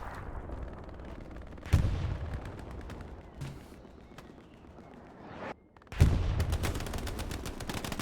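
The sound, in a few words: gunfire and tank explosions in a video game match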